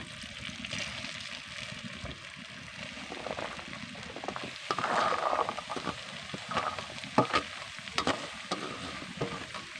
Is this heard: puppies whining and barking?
no